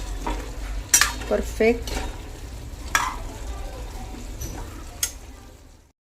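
A vegetable curry is stirred in a frying pan, with a soft sizzle under scraping strokes of a spoon, close up, and a brief voice speaks.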